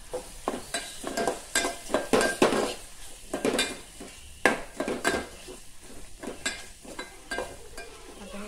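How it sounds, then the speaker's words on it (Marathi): Homemade garam masala and a pinch of turmeric are stirred in hot oil for a Konkan-style dish, with a spoon repeatedly scraping and clinking against the pan over a soft fry, close and without talk. "आता त्या तेलामध्ये परतून घेऊयात"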